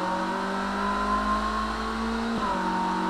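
A simulated car engine in the racing game Automation drones at high revs down a straight, its tone holding steady, then dipping briefly as it shifts and climbing again, loud and continuous with no talk.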